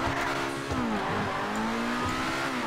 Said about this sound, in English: Look at this car. Look at the sound. Listen to the sound, right?